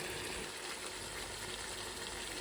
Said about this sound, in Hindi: दो से 3 मिनट हम भुनाई कर लेंगे।